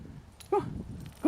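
A walked dog gives a short high whimper, then a second brief whine near the end, heard close against quiet outdoor ambience during a dumpster-diving stroll at an apartment complex.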